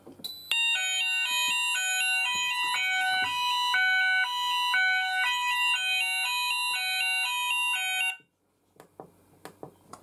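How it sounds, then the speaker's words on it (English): Protec 3000 Plus smoke detector in alarm, a loud electronic tone stepping between pitches in a fast repeating pattern for about eight seconds, then stopping, followed by faint clicks and handling noise. "There we go, Protec detector triggered, the 3000 Plus."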